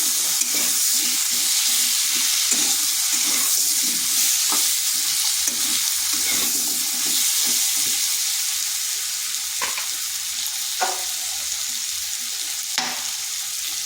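Pumpkin with turmeric is stirred in a frying pan for a Bengali egg-and-pumpkin dish, giving a steady close hiss of frying with soft scraping strokes and small knocks throughout, no voices.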